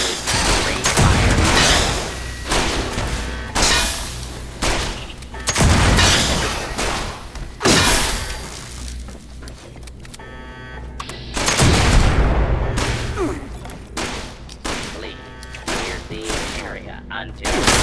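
Gunfire in the video game Fallout 76, dense repeated volleys of loud close shots and booms running almost continuously, with short lulls, and some speech mixed in.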